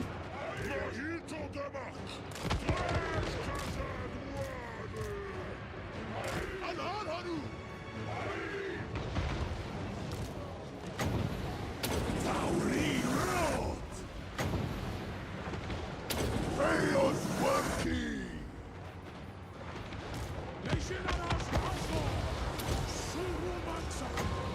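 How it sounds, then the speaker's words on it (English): Artillery and gunfire in a Total War: Warhammer battle come as repeated booms and crashing impacts scattered through the clip, over a constant mechanical din of combat, with voices talking over it. "Still taking out artillery shots."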